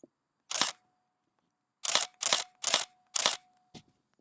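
Contax 35mm film SLR camera shutter fires close up, first with one sharp mechanical clack, then four quick clacks in a row as on continuous drive, with a faint motor whine underneath and a small click at the end.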